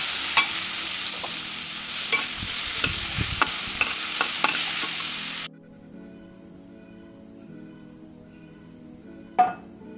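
Garlic added to hot oil for a shellfish masala sizzles and crackles, with sharp spatters and stirring clicks over a steady hiss, then the frying suddenly drops to a faint quiet hum, broken by one louder clack near the end.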